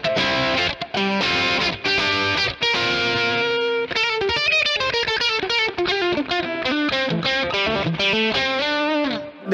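A Manson Oryx Adam Nolly Getgood signature electric guitar with a parallel pickup setting through a crunch distortion tone plays loud, snappy chords and riffs continuously, with brief choked gaps between phrases.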